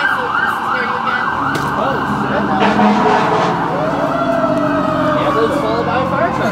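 An ambulance siren wails loudly with rising and falling sweeps as it passes close by, over traffic rumble and some background voices.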